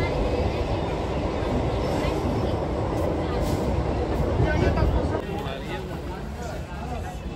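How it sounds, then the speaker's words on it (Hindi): A train rumbles at a busy station, a low rolling din mixed with platform crowd chatter and voices throughout, easing slightly toward the end. "हमारी जो ट्रेन है वो आ चुकी है"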